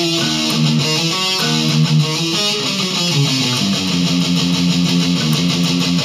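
An electric guitar plays a riff, a loud, distorted, chugging metal pattern of descending fretted notes, steady and continuous with no voices.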